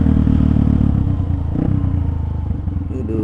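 A modified Honda CRF 150 supermoto motorcycle engine runs close by with a throbbing, rhythmic rumble that eases slightly midway, with faint clatter over the steady beat.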